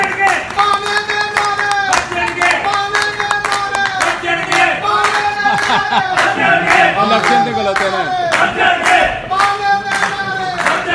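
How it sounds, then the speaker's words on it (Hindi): An award ceremony audience claps steadily and loudly for about eleven seconds, a dense crowd applause with a few voices calling out over it. "तालियां बजाएंगे, बड़े नाम है।"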